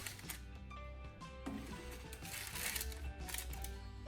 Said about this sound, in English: Now line the bottom of the basket with parchment paper.